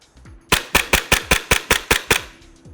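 An airsoft gas pistol fires nine sharp, snappy shots in quick, even succession, loud and close, with a faint mechanical click before the string.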